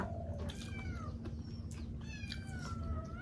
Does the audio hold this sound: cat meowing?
yes